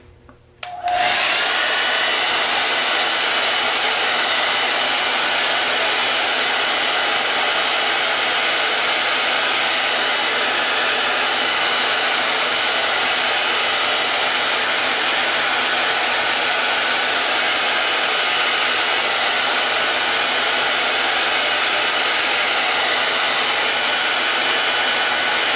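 A heat tool blows a steady, loud rush of air across ink on a mixed media journaling card, switching on abruptly and running continuously without a break.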